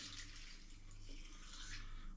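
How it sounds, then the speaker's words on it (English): Flavoured gin poured from a jug through a funnel into a bottle over a pan, a steady faint trickle of liquid running continuously at close range, with no talk. "So I'm going to pour it over the pan in case it drips,"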